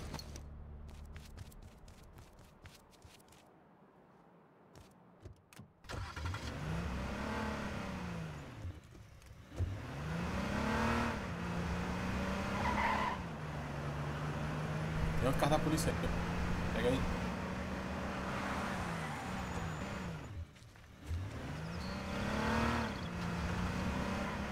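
A car engine in a video game hums and revs in repeated swelling sweeps, steady and moderately loud, with people talking over it.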